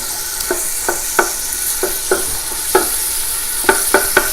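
Food stirred in a pot for Sunday sauce, the spoon knocking and scraping about a dozen times in an uneven rhythm over a constant close sizzle.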